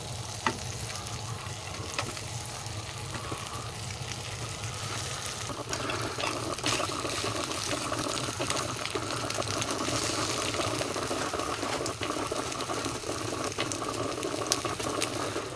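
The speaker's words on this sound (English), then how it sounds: "The sound of French toast sizzling, coffee percolating" French toast sizzling in a pan alongside percolating coffee at a winter hot-tent camp, a steady soft crackle and bubbling hiss that continues evenly at close range with no talking.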